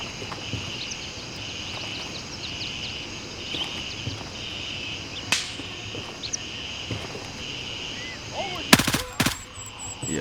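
Gray Zone Warfare combat: quiet outdoor ambience with insects and birds, a single sharp distant shot midway, then a close, rapid burst of automatic gunfire near the end followed by a few scattered cracks.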